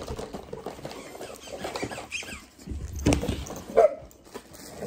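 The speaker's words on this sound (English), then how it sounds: "So there's a plush, a plush Spider-Man toy that squeaks." A squeaky plush Spider-Man dog toy gives a couple of short, sharp squeaks amid shuffling, pawing and faint dog sounds, near and moderately quiet.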